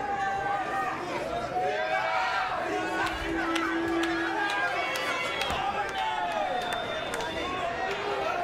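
Irish fans roar inside an arena at an Invicta FC 52 mixed martial arts event, a dense, loud crowd din of shouting and chanting that holds steady throughout, with a commentator's voice over it.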